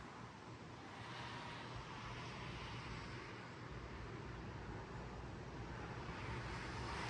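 A 2002 Heritage Alexis 52-inch ceiling fan running on high, giving a steady, faint broadband whoosh of moving air that stays even throughout, with no talking.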